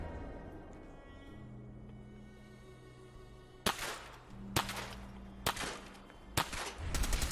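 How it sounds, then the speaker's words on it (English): Fallout 4 gunfire: four or five sharp, loud shots spaced about a second apart over a low steady game hum, without talk. "we'll shoot him in the head"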